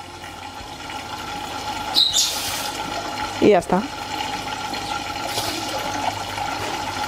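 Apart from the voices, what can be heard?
water from reverse osmosis hose filling aquarium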